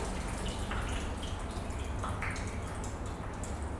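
Water sprayed across the bottom of a car's painted panel, freshly coated with ceramic quick detailer, makes a soft, continuous hiss and splash with faint dripping, quiet and close.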